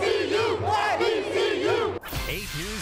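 A crowd gathered at a live street news scene shouts and chants in loud, sustained unison with rhythmic rising-falling cries, close and dense, then cuts abruptly to a different noisy voice-filled scene near the end.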